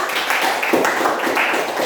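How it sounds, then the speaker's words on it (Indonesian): A classroom of students gives a steady round of hand clapping, close and continuous for a couple of seconds, with faint voices mixed in. "Sekali lagi untuk tepuk tangan untuk kita semua."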